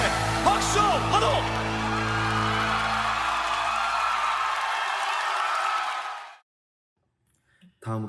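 A church congregation at Sunday worship claps and cheers in a loud, sustained wave of applause with whoops over music, which fades out into silence before a voice returns.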